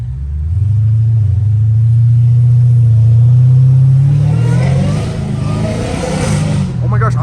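A straight-piped Dodge Hellcat Redeye engine roars up close in a loud, sustained deep rumble, revving and surging as the tires slip, with excited voices talking over it.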